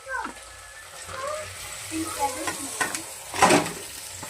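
Liver pieces frying and being stirred in a pan with mint and coriander, a low sizzle with scattered spoon scrapes and a louder clatter near the end, under a voice talking.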